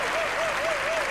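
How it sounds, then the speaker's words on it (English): Applause from a 3,500-strong audience in a huge hall at the 1993 Eurovision Song Contest, a dense, even roar of clapping with a faint wavering tone drifting above it. "It's a very nice round of applause in this huge hall."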